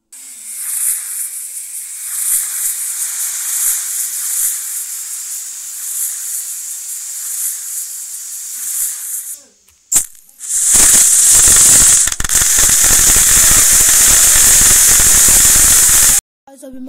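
A Diwali firework fuse lit and burning, a long steady hiss that cuts out, followed by a sharp pop and a loud, bright rushing fizz that sprays for several seconds before stopping abruptly.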